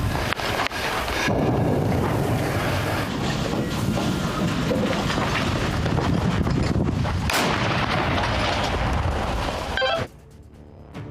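An American M119 howitzer fires on the front line, heavy booming blasts rolling into a continuous loud rumble for about ten seconds before dropping away.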